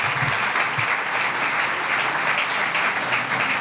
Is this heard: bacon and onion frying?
no